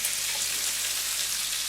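Salmi pieces, salted and peppered, sizzling in hot fat in a pan, a dense, steady crackling hiss that fills the short moment with no voices.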